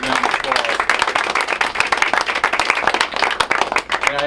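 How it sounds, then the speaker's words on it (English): At a broadcast studio dedication, a crowd applauds the student outlet Mustang News with close, sharp, crisp claps in a lively burst, punctuated by individual hand strikes and a few voices mixed in. "Let's give Mustang News a big round of applause."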